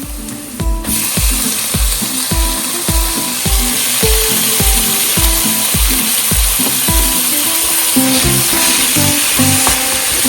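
Tomatoes go into a pan of frying chilli and turmeric masala for egg roast, a loud steady sizzle under a rapid, even ticking rhythm that carries through the whole stretch.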